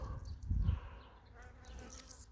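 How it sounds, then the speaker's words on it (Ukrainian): Bees buzz close by among blueberry bushes with a droning hum that rises briefly loud, then drifts fainter, no talking. "Бджоли ще літають."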